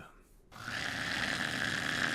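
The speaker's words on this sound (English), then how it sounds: "God, Luffy snores, man." The anime character Luffy from One Piece snores in a loud, continuous rasping drone that starts abruptly after a short quiet moment and holds steady to the end.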